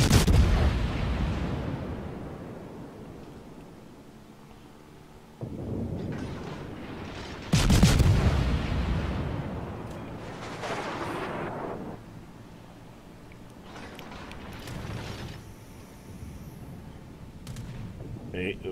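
Naval gunfire from warships in World of Warships, several heavy booming salvos with long rumbling decays, loud and close, one after another over roughly twenty seconds with no talk.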